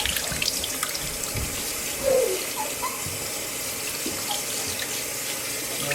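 Water runs steadily from a tap while a six-week-old AussieDoodle puppy is bathed, a constant close splashing hiss with a few small splashes and no talking.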